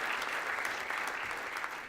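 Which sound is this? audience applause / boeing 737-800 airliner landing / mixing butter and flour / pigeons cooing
audience applause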